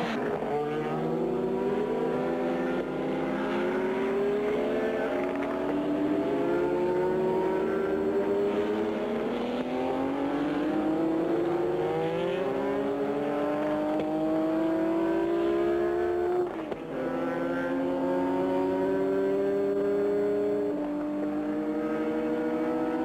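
Alpine Renault race cars at Le Mans in 1978 run flat out near 350 km/h, their engines holding a loud sustained whine that climbs through repeated upshifts, with one sharp break partway through.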